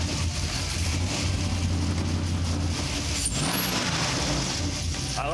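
A Chevrolet Colorado truck engine runs loud and steady at the Motor Enclave, a deep continuous rumble with a rev rising midway through.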